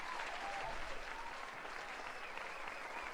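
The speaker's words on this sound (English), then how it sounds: "Let's give a round of applause." An audience claps in a steady, dense burst of applause that holds at an even level throughout, close and full, with no voices standing out.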